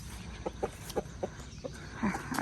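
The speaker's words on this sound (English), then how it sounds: "So these are my roosters that I have left." Roosters cluck in a short series of soft, rhythmic calls at moderate distance, about half a dozen evenly spaced clucks over a low outdoor background, ending with a louder, busier burst of sound.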